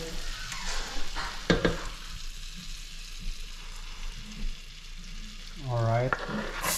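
Garlic frying in melted fat in a pan: a low, steady sizzle with a few spoon knocks near the start, fairly faint, with a short tonal sound near the end.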